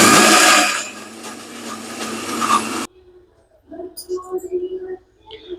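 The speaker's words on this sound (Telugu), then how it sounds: "వాటర్ కొన్ని వేసుకుంటూ మనం మంచి మిక్సీ చేసుకోవాలి" A mixer grinder whirs loudly as it blends peanut chutney with added water, fading to a lower grind before cutting off abruptly, followed by quiet talking and faint kitchen sounds.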